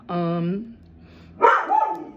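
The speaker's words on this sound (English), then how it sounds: "this dog barking as soon as I start filming" A pet dog barks indoors, one long sustained bark followed by a pause and then a sharper, rougher yelp, close and loud in a quiet room.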